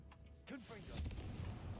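A blasting spell detonates in Hogwarts Legacy, a deep booming burst that follows a brief spoken voice and rumbles on for about a second.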